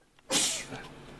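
A single sharp sneeze bursts out close by, a sudden breathy explosion that trails off quickly.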